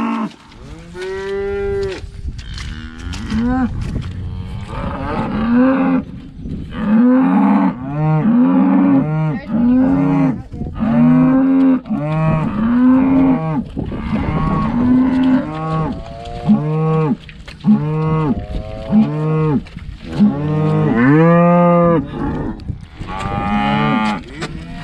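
A bottle-fed calf on a farm moos loudly and repeatedly, drawn-out calls following one another closely through the whole stretch, with no voices.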